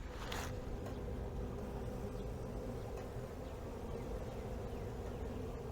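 Honey bees hum around a Langstroth hive during a colony transfer, a steady low buzzing drone outdoors with occasional individual bees passing close, continuous and moderately faint.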